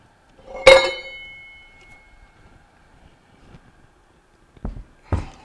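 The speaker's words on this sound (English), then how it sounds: "We'll just lift the whole assembly out and we'll start disassembling the pump." A Bell & Gossett Series 80 pump assembly clanks once loudly as it is lifted, with a ringing metallic clink that decays, followed a few seconds later by two shorter knocks of metal parts.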